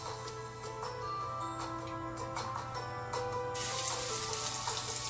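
Shrimp sizzle in a pan on very high heat, a steady crackling hiss with small ticks and pops that swells louder toward the end, and no one talking.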